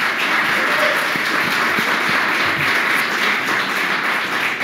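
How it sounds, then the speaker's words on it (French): Audience applause at a talk on energy renovation work, a steady, loud wash of clapping hands filling the whole span without pause. "Je pense qu'ils ont mérité de gros applaudissements."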